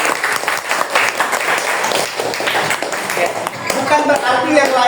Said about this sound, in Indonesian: Kita beri tepuk tangan untuk kelompok Afkari.